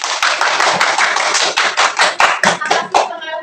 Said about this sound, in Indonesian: Tepuk tangan untuk Mbak Nabila.